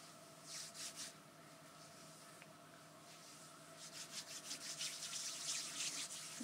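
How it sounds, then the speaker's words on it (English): Hands rub makeup primer into skin, giving soft, close, whispery friction strokes that come in bursts and grow denser toward the end, quiet and intimate with no talking. "And I rub it in and I use my hands"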